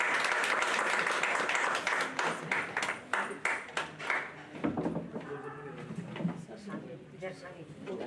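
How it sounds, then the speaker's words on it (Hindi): Audience applause at the opening of an environment seminar in a hall, a dense wash of clapping that thins out after a few seconds as voices talk over the fading claps. "सब एक बार जोरदार तालियों से स्वागत करें।"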